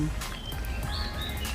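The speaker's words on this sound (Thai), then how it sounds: "น้ำตกเสียงนกร้องนะคะ" Birds chirp and tweet in short high calls over a steady splashing wash of water from a small waterfall at a garden pond, continuous and close, with no voices.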